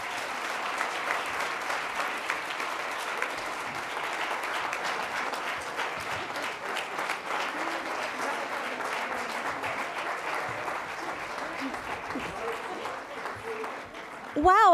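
Sustained audience applause at a civic event presented by Consumers Energy, a dense even wash of many hands clapping for the full stretch, with a voice starting to talk at the very end.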